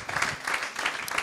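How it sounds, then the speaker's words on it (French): Audience applause for Ernest Bong at a New Year's Eve live show, a dense, steady wash of clapping from a crowd lasting the whole brief moment. "j'aimerais applaudir et qu'on applaudisse monsieur Ernest Bong"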